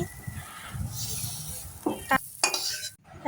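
Fried pumpkin pieces are lifted out of a pan of hot oil: a steady sizzle with a few sharp spatula scrapes and clinks against the pan near the end.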